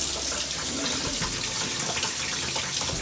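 Water gushes in a steady, loud, unbroken rush as it flows out and down through a freshly cleared drain, close by with no voices.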